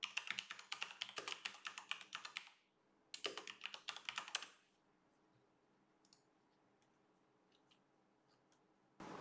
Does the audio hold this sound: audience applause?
no